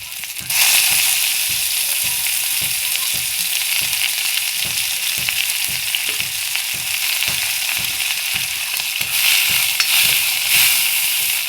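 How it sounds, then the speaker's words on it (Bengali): Onion and garlic sizzle and fry in hot oil in a wok, a loud, steady crackling hiss that runs throughout, broken by regular scraping strokes of a spatula stirring the pan. "কড়াইতে আমি দিয়ে দিয়েছি তেল, এবার দিয়ে দিব আমি পেঁয়াজ আর রসুন একসঙ্গে।"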